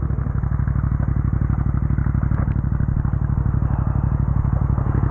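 A motorcycle engine revs hard and continuously with a dense, rough, rapid pulsing and clattering texture, loud and close throughout, with no talking over it.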